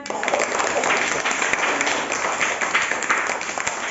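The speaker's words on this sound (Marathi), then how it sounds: "जोरात टाळ्या" A crowd claps loudly and continuously for a few seconds during a school puzzle game, a dense burst of applause.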